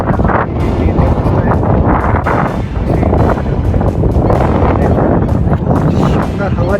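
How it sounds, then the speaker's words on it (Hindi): Strong wind sweeping across Sambhar salt lake, buffeting the microphone in loud, continuous gusts and rumbling roar, with a voice talking underneath. "हवा चल रही है, अभी आवाज़ आ रही होगी वैसे तो हवा की।"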